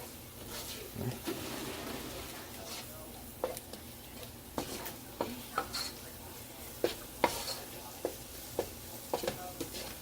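Vegetables stirred into a paste with Rotel juice in a pan for tacos, with a spoon scraping and tapping at an irregular rhythm over a low sizzle. A voice speaks over it throughout.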